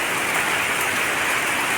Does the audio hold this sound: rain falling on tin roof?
yes